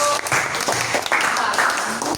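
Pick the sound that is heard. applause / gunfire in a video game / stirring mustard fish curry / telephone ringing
applause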